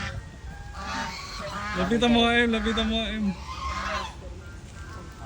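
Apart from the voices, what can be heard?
turkey calling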